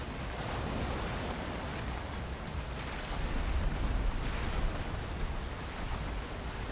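Storm-driven ocean swells in Valheim roar as a dense, continuous wash of surf and wind, loud and unbroken. The roar surges slightly heavier partway through, and no voices can be heard.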